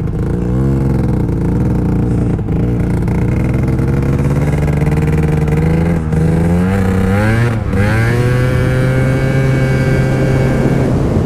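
A Gilera Runner FXR 180 scooter engine runs loudly and close, a buzzing two-stroke drone that rises and dips with throttle changes and a few sharp revs, with no talk over it.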